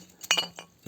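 Glass bottles clink against each other in a few quick, bright knocks while litter is gathered under a bridge. The clinks are close and short, with a small cluster of hits near the start and another at the end.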